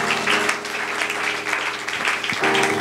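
A church congregation breaks into applause, a dense steady clatter of many hands heard up close and sustained for a few seconds without pause.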